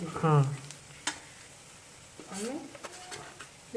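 Onions and curry leaves fry in a pan with a faint, steady sizzle and occasional stirring scrapes, while a voice speaks briefly at the start and again partway through.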